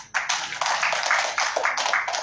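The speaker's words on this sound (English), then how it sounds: "I think we need another round of applause for." An audience applauds at a launch event for Afrobarometer survey findings, a dense, steady patter of many hands clapping close by for a couple of seconds.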